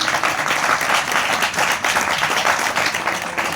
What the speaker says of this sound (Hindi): उस जिंदा खुदा के लिए जोरदार तालियां।